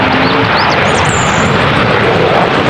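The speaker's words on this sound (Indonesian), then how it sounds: "ternyata ini pesawat jet tempur" A toy fighter jet's sound effect, a loud, continuous roaring jet-engine rush with whistling tones drifting above it, filling the whole stretch without voices.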